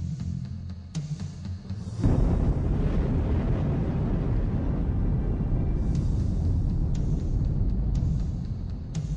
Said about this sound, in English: Magnificent mountains explode as a result of the volcanic pressure beneath them.